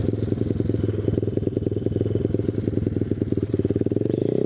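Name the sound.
Grom clone motorcycle with ZS190 motor riding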